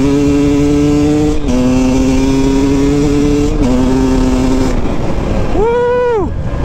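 KTM 250 EXC enduro motorcycle on a woodland trail course, its engine droning loud and steady with gear shifts, then revving up and falling away near the end.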